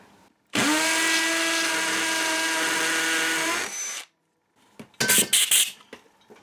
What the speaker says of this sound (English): I'm just going to drill one hole just to get this thing on the wall